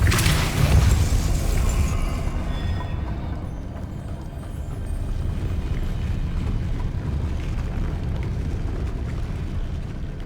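A Depulso spell cast in Hogwarts Legacy bursts out with a loud booming whoosh, then decays into a steady low rumble that carries on to the end.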